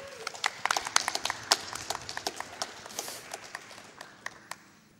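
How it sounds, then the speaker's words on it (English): An audience at a speedrun event gives scattered, fairly faint applause, individual claps standing out sharply against a quiet room and thinning out toward the end. "Can we get a round of applause?"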